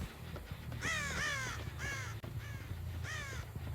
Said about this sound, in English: Yep, you can hear the crows going off.